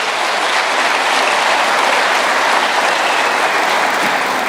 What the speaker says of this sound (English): I was hoping the beneficiaries were going to clap hands for His Excellency.